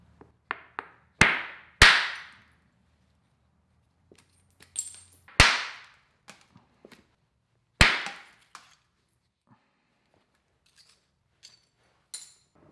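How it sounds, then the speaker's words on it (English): Sharp, ringing clicks as an antler strikes obsidian while flintknapping hollow-base stone points, several distinct percussive hits with short decaying rings, spaced irregularly and separated by quiet pauses and small taps. "I'll also use antler to hit it."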